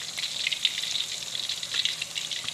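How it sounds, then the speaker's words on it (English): Prawn fritters crackle and sizzle in hot oil, a steady dense bubbling with scattered sharper pops, close and even throughout with no voices. "Fry the prawn fritters until light brown and set aside"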